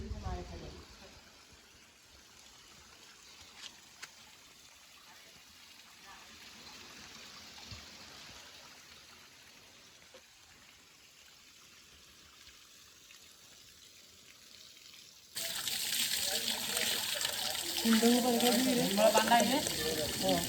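A stream flows at Budhakhol temple in Ganjam, Odisha. Quiet background with some talk gives way near the end to a sudden, steady rush and splash of running water close by.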